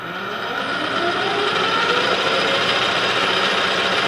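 A lathe boring bar cuts into an aluminum tube, a steady machining whine with a faint high tone that rises slightly and holds evenly over the spindle's running hum, close and unbroken with no talk.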